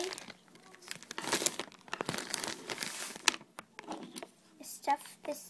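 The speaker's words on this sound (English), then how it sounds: "Then you're going to cut open this hot glue bag." A plastic bag of hot glue sticks being cut open, close crinkling and crackling of thin plastic in bursts with snips and rustles, fairly quiet, with faint voices in the background.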